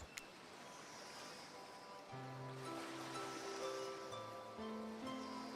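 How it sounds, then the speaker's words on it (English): Ocean waves at night in the video game Hooked on You, a steady soft wash of surf that fills the scene, with gentle music tones rising in after a couple of seconds. "Don't you love the ocean at night?"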